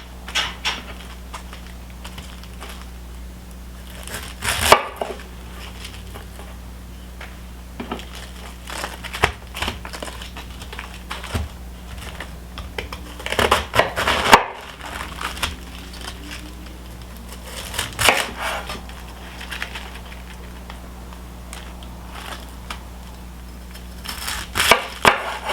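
A knife cuts through a big chunk of cabbage on a board for a cabbage and bacon side dish, giving several crisp crunching chops spaced across the stretch, close and fairly quiet, with a low steady hum beneath.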